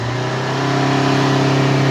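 A car engine with a faulty barometric pressure sensor is held at full throttle, giving a loud steady high-revving drone that climbs slightly and then stays flat, as if it cannot rev any higher. No one speaks.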